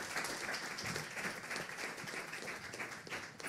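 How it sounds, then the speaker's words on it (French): Faint, steady applause from an audience after a presentation at an environmental evening event, many hands clapping in a continuous patter without speech. "On l'applaudit."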